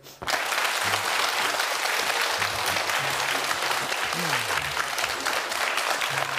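Sustained audience applause fills the space at a comedy duo stage show, dense steady clapping from a large crowd with faint voices murmuring underneath throughout.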